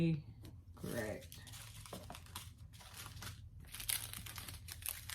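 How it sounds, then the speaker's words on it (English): Plastic bag crinkling close by in short rustling bursts, with people talking over it throughout. "Put these out of that bag so you don't have to hear the crinkling."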